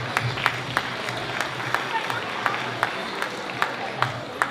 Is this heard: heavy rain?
no